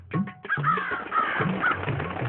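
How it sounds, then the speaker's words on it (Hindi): Crows on a rooftop parapet in an animated children's story caw repeatedly in harsh, overlapping calls, close and loud, with no talking over them. "14 कौवे चंदू की चाची की छत की मुंडेर पर।"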